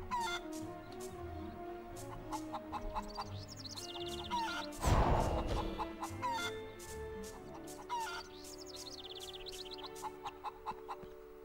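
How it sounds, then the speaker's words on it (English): A small chicken clucks repeatedly in Harry Potter and the Chamber of Secrets video game, its short clucks coming in bursts over background game music, with a louder crash or flutter near the middle. "Small chicken."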